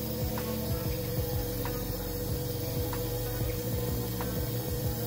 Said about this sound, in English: the fuel pump should be running and you should hear a noise like this